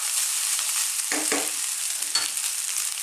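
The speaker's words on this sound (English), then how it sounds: "We actually need to fry the rice." Cooked rice for vegan ginger garlic tofu fried rice sizzles steadily in a pan over high heat, with a few quick scrapes of stirring breaking through the constant hiss.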